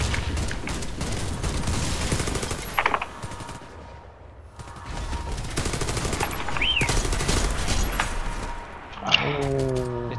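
Sustained automatic gunfire from a Pripyat co-op mission in a shooter game, dense rapid bursts rolling across the scene with a brief lull midway, then resuming loud and close.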